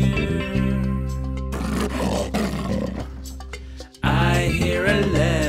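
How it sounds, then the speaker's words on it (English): A leopard gives a loud, deep, sustained snarling roar with a rough, growling texture, close and dominant, broken by a brief pause before it surges again. "I hear a leopard snarling in my ear."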